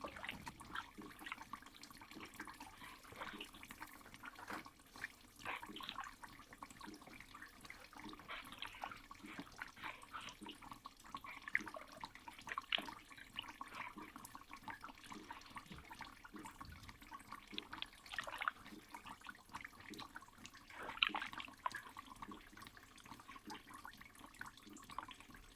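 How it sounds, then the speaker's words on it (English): A hand churns water and clay inside a bucket, producing soft, faint sloshing and gurgling with irregular small splashes and drips that continue steadily for some time, close up and with no voices. "Keeping one hand submerged, the artist digs deeper, churning the contents of the bucket over and over"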